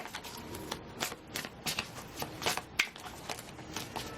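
Moon cards are shuffled during a tarot reading, giving a steady run of close, crisp riffling and flicking for several seconds with no talk.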